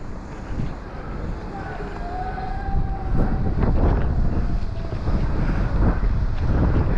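Gale-force wind gusting along the Paphos seafront, loud buffeting roar across the microphone that swells and surges continuously, with faint tonal whines and distant background sounds mixed in.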